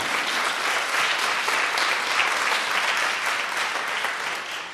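Sustained audience applause fills a hall at an evening panel event, a dense, steady wash of many hands clapping at close range for nearly five seconds without pause.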